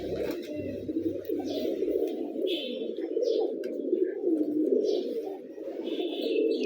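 Pigeons coo continuously and closely in a low, rolling rhythm, with a few faint higher chirps scattered over the top and no talk.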